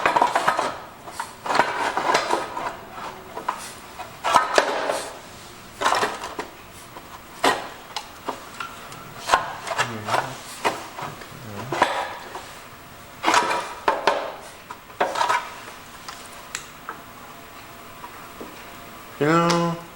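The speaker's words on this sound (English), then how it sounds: "So now I gotta put this shroud back on here." A metal engine shroud is worked back into place on a 1971 John Deere 140 garden tractor, giving close, irregular clanks, taps and scrapes of metal parts. Someone talks intermittently between the knocks.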